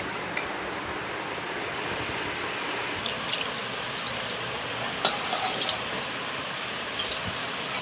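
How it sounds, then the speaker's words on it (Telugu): Water poured from a glass into a dough mixture of maida for sweet poli, a soft, close, continuous trickling and splashing with a few small drips and clinks, no talking. "వాటరు ఒక 1/2 గ్లాస్ వేసుకోవాలి ఫ్రెండ్స్"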